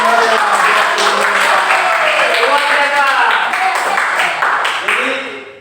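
Classroom applause after a group's microteaching discussion, steady dense clapping from a room of students filling the whole stretch, with voices chattering underneath before it tapers off at the end.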